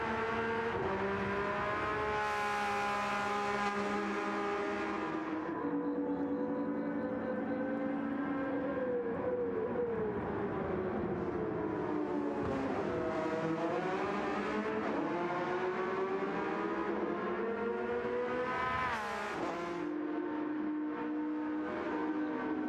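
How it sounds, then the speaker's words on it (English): Race cars lap the Red Bull Ring in a sim racing series of Porsche Cup and GR3 machines, engines whining and shifting pitch as they accelerate and brake, with tire squeal and cars passing close by, heard with no talking. "You're watching race cars."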